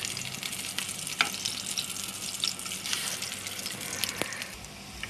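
Persian kotlet patties sizzle and crackle in hot oil, a steady close frying hiss broken by small pops and spits throughout.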